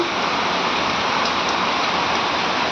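Steady, dense rain pours onto trees and foliage outdoors, a constant close hiss of drops with no pauses and no voices.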